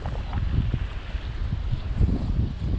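Steady, gusty wind on a shore buffets the microphone with a low rumbling roar that swells and eases throughout, loud and close, with no voices.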